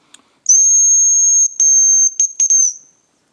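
A hunter blows a high, thin whistle that imitates a hazel grouse call: one long steady note, then several shorter broken bursts with a slight downward slide at the end, loud and close in a quiet forest.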